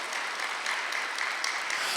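Church congregation clapping together during a Korean Sunday worship service, a steady, dense wash of many hands lasting throughout, moderately close and even in loudness with no break.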